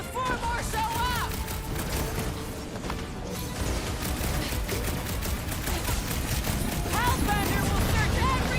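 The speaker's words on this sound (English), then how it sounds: "Just keep shooting before more show up!" Sustained gunfire crackles through a battle in Guardians of the Galaxy, mixed with clanking mechanical noise and game effects, with voices calling out over the steady barrage.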